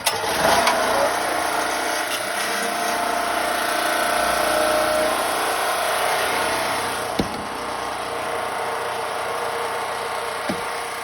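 A portable generator runs at home, holding a steady mid-pitched engine hum from start to finish. A couple of sharp knocks cut in near the end.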